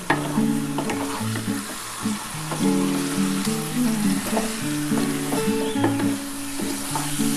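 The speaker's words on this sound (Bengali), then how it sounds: "ভালো করে একটুখানি ওলট পালট করে নিতে হবে পেঁয়াজটা দিয়ে" Aar fish and onions are stirred and tossed in a hot pan of spicy chilli-powder curry, a steady frying sizzle broken by repeated scraping and clinking of the spoon against the pan, close and continuous with no talk.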